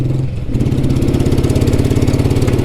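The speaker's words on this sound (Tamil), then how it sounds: "இது ஓடுத்து பாருங்கள், எவ்வளோ அழகாக ஓடுத்து பாருங்கள். இப்படி ஓடும்." A vintage Royal Enfield Bullet motorcycle runs close by with a loud, steady, evenly thumping single-cylinder beat throughout.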